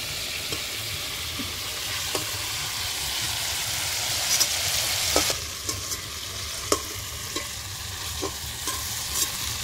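Steady sizzling of chicken frying in a pan, with a spoon scraping and stirring at irregular intervals, close and continuous.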